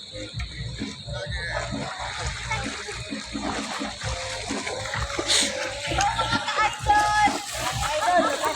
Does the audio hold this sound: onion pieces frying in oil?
no